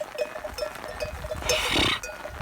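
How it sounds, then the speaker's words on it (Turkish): Kangal lambs bleating close by in the rain, a few short repeated calls over outdoor background noise and shuffling. "Hadi bakalım kuzuları. nereye gidiyoruz?"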